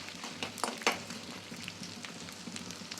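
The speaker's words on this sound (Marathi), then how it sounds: "तूप भरपूर घालून आणि थोडा थोडा आपण डिंक घालून तळून काढायचं आहे" Edible gum (dinka) frying in plenty of ghee: a steady, soft sizzle and crackle throughout, with a few brief louder pops early on, close and without voices.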